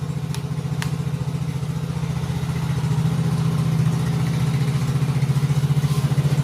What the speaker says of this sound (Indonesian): untuk motornya sudah hidup